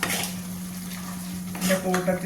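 A few scraping stirs of a spoon through onion and beetroot pickle in a pan, close and moderately loud over a steady low hum, with a brief clink near the end.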